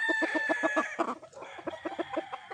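Rapid rhythmic clucking from a Roundhead gamefowl rooster close by, a quick run of repeated calls, then a looser series of clucks with faint crowing in the background.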